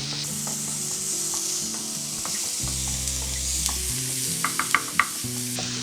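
Onions and tomato with salt sautéing in a pan for a drumstick egg masala, a steady sizzle with low stove hum and several sharp utensil taps toward the end, no voices.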